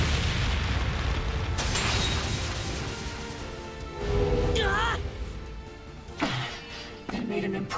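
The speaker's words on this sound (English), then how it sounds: "They made an impromptu flashbang" An improvised flashbang bursting in the video game Trails Beyond the Horizon, a loud, dense roaring blast that fades out, followed by sharper impacts and whooshing effects under game voices.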